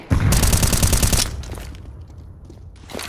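A flashbang grenade going off in Counter-Strike 2, one loud crackling blast that lasts about a second and fades into a dull ringing hum, with more noise returning at the end.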